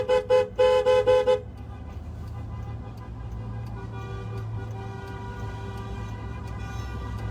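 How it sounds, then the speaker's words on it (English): Near the airport in Ottawa, a car horn sounds in a quick burst of about six short, loud toots. Steady engine hum and a low road rumble carry on beneath it. "We're honking at everybody."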